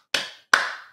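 Three loud, sharp claps spaced evenly about half a second apart, each ringing briefly in a room, with no voices.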